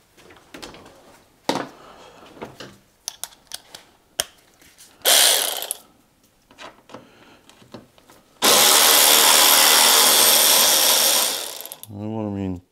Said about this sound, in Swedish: Jag testar att lossa de här.